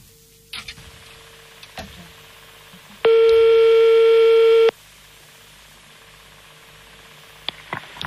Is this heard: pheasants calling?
no